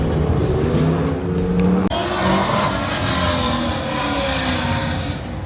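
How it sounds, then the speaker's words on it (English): Race cars run an autocross course at the Goodguys Summit Racing Nationals in Ohio. Loud engines rev and accelerate nearby with a sharp gear-change break, and the cars roar continuously throughout. "We're gonna check out this autocross behind us."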